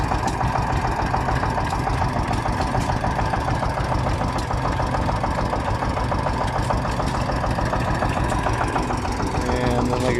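A John Deere D410 tractor with a bush hog idles steadily at a steam-era show, a continuous loud, rumbling engine note with a rhythmic knock and no break across the whole stretch.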